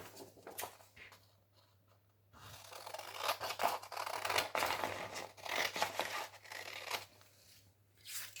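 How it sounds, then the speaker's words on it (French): Scissors snip through a folded sheet of paper in a series of close, crisp cutting and rustling strokes, with a brief quiet pause before the cuts. "je vais venir prendre mes ciseaux et venir couper cette partie-là."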